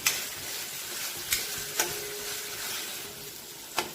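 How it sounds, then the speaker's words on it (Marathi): Masala with salt sautéing in a pan for a soybean gravy, giving a steady soft sizzle with a few sharp clicks of the spatula against the pan, close and quiet. "आता हे परतत असताना त्यामध्ये चवीनुसार मीठ टाकायचं, अशी तसं परतत राहायचं"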